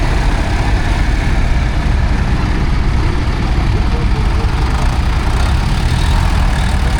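A vintage tractor with a Perkins six-cylinder diesel engine runs loud and close at a tractor parade at a steam and craft show, a steady low rumble throughout.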